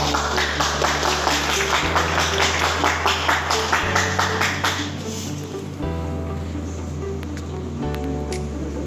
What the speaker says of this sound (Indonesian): Kita kasih tepuk tangan dulu untuk Atika